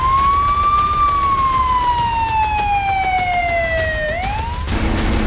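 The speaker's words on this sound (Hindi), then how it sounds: "एम्बुलेंस के सायरन गूंज रहे हैं।" An ambulance siren wails loudly nearby, its pitch slowly sliding down then sweeping back up, sounding alone over low street rumble, in a city after Russian missile strikes on Ukraine.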